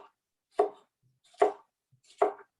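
Three separate knife strokes slicing food on a cutting board while ceviche is prepared, each a crisp, close thunk with short gaps between them and quiet in between.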